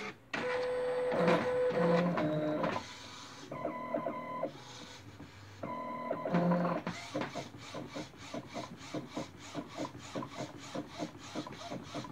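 An Epson SC-P600 inkjet printer used for DTG printing runs through its cycle, with whirring motor tones and feed noises giving way to a fast, regular shuttling of the print head back and forth, close and loud, with no talk.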